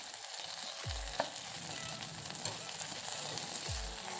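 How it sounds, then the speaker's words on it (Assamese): Egg chow mein with sauce sizzles and fries in a pan while being stirred, with steady crackling and a few soft low thumps from the utensil against the pan. No one speaks. "এতিয়া আমি এইখিনি ভালদৰে মিক্স কৰি দিম যাতে চব একেলগে আহি যায়"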